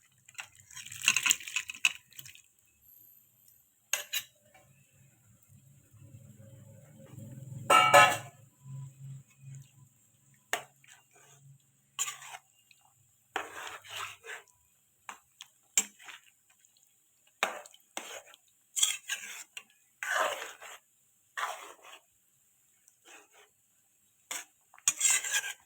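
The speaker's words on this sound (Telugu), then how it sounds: "పొటాటో ముక్కలు మునక్కాయలు కొంచెం ఉడకబెట్టుకున్నాం కదండి, కొంచెం సాల్ట్ వేసి ఇప్పుడు వేసేసుకుందాం." Boiled potato chunks and drumstick pieces tipped into a simmering egg curry with a pinch of salt, giving clattering spoon and pot knocks, stirring scrapes and a soft splash, close and intermittent with no talking.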